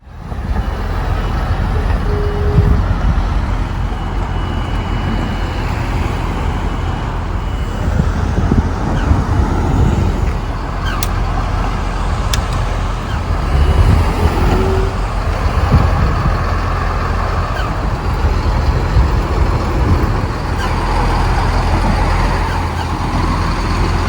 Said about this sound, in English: I am driving my car there from Poland, which adds up to just under 700 kilometers of road trip.